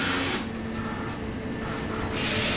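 An Epson printer draws in a single cut sheet of paper with a steady close mechanical whir and hiss, unbroken for the short moment, with no talk.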